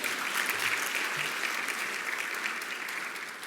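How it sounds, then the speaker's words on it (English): An audience claps at an evening school awards ceremony, a steady, dense wash of applause that holds even and tapers slightly toward the end, with no speech over it. "Good time to clap."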